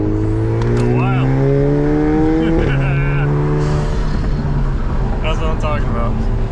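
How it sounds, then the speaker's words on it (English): Alfa Romeo Giulia Quadrifoglio with a valved exhaust roaring loudly and close, its pitch climbing through revs, dropping with a gear change, then building again, with a brief squeal. "That's why valve exhaust is badass."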